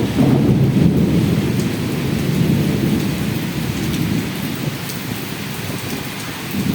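A loud downpour in Dhaka with thunder rolling beneath it, a deep rumble that swells early and then eases. The hiss of rain on surfaces continues without a break for nearly seven seconds.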